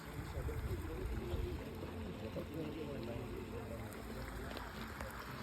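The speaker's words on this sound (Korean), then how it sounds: "이렇게 물 흐르는 길까지 너무 귀엽게 만들었어." Water trickles steadily along a small channel at salt pans in Peru's Sacred Valley, a soft continuous flow with people talking over it outdoors.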